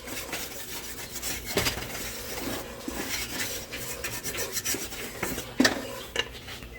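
A utensil scrapes and rubs around a cooking pot during tamale making, giving a continuous close rasp with small knocks, and one sharper clink near the end.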